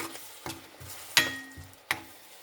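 A spice paste for mutton soup sautéing in a pan, with soft sizzling broken by several sharp scrapes and taps of a spoon stirring it, quiet and close with no talk.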